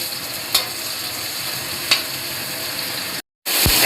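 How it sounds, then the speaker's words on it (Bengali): Potatoes fry in refined oil for a chicken biryani with a steady close sizzle, broken by a couple of brief scraping stirs and a short dropout. "একদিকে আমি লাল করছি আলু"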